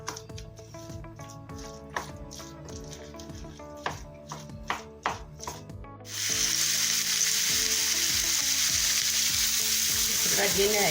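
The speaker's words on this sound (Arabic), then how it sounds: "الخضره ديالنا هي كطيب" Vegetables fry in a pan: the first part holds scattered stirring knocks and scrapes against the pan, then a loud, steady sizzle fills the rest, close and continuous with no talking.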